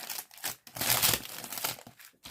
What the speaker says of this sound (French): je remets dans ce sachet très pratique, mais qui colle.